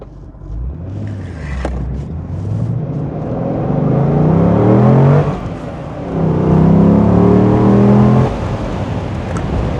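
A car engine rumbles and revs up in steady surges, rising and falling in pitch, loud and close.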